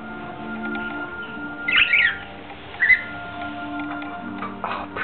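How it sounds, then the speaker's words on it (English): Pet birds in an indoor aviary give two short, sharp squawks over a quiet background hum with faint ticking, no voices. "Oh, pretty birds."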